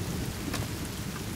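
Steady rain in The Forest game, a dense, even hiss of falling water filling the short stretch without pause.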